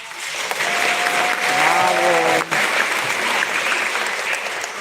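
Audience applauding students at a school recognition event, a steady dense wash of clapping that swells and holds for about five seconds with a brief dip partway.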